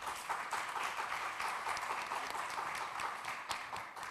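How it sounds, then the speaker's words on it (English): Audience applause fills a hall at an education festival event, a dense, steady wash of many hands clapping continuously, fairly loud and close throughout with no talk over it. "these vibrations of claps, right, does something good to the entire hall"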